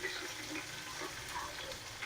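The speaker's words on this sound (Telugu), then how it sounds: "వాటర్ పోసేద్దాం" Water is poured into a cooking pot while making chicken biryani, giving a steady rushing, splashing stream that runs evenly and fairly close throughout.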